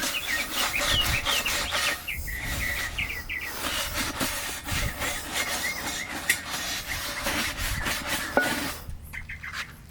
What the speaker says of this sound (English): I'm just gonna scrub them real good